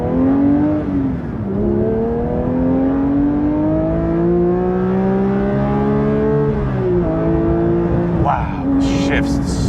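Porsche 992 GT3 Touring in Brewster Green, its engine revving steadily and rising in pitch through the gears, with a shift break partway and another shift near the end. The sound is loud and close throughout, with no talk.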